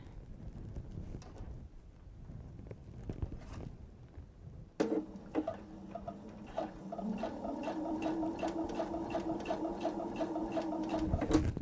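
A sewing machine stitches across a thick seam of a fabric wine tote. After some quiet handling it starts up and runs in a fast, steady mechanical rattle for several seconds, close and clear.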